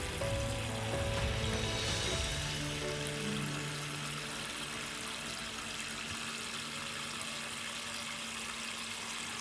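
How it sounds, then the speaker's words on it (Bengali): Water is poured into the soil of a newly repotted Mandevilla plant, making a soft, steady, faint splashing hiss that lasts throughout. "এবার দিতে হবে জল"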